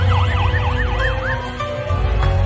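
An ambulance siren wails in a rapid rising-and-falling pattern over rumbling traffic noise, loud and fairly close, during an emergency response near an airport on Maui.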